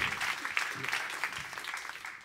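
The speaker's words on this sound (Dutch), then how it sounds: "Geef hem een groot applaus." Audience applause at a Studio Erasmus talk on Rotterdam's port energy transition, a steady wash of clapping from a live crowd that gradually thins toward the end.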